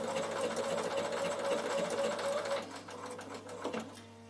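A Bernina sewing machine running at reduced speed through a zigzag stitch on wool applique, a steady close whirring hum that slows and fades near the end.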